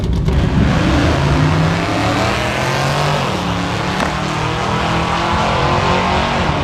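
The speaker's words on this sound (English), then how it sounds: "The Mustang rips down through with an 835 at 83 miles an hour." Chevy S10 truck and Mustang street car launching side by side in a drag race at the No Name Nationals, a loud, steady roar of engines at full throttle across the whole run, with no voices over it.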